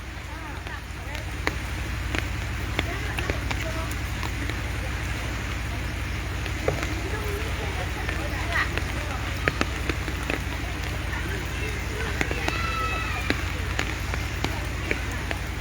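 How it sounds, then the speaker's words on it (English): Light rain falling during a flood in Deramukh, West Karbi Anglong, Assam, near floodwater from the Kopili River dam: a steady soft patter of drops with a low continuous rumble underneath. "It is still raining here."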